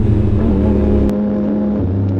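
A motorcycle engine idles and revs close by, a loud throaty hum that rises, drops off partway through, then picks up again, with no talk over it.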